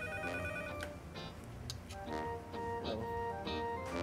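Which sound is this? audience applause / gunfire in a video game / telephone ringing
telephone ringing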